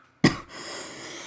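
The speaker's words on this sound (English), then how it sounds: "Large cough." A single large cough rings out sharply and then trails into a breathy tail, near and loud against a quiet background.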